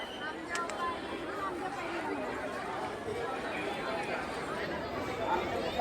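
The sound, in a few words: crowd chatter at Vitthal Rukmini temple, Pandharpur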